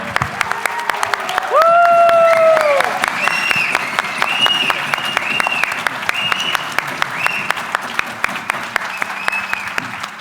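A gala crowd keeps up sustained, full applause over several seconds, with cheers and whoops rising through the clapping and a voice speaking over the noise.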